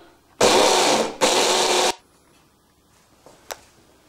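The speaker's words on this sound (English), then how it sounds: "Another quick blitz to mix those spices in" Two loud bursts of a food processor blitzing dry spices and black pepper for a Jamaican jerk chicken marinade, each lasting under a second with a short gap, followed by quiet kitchen handling and a small clink.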